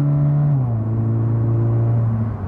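A Toyota 86 / Subaru BRZ with an automatic gearbox, left in normal drive mode, holds a loud steady engine drone inside the cabin, then drops pitch in a slurred, unhurried shift and settles lower.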